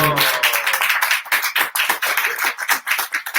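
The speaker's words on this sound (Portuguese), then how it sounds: "essas palmas são para eles e não para mim" A live audience at a Narasimha Chaturdashi gathering claps loudly and close, a dense burst of applause that settles into quick, rhythmic clapping for several seconds.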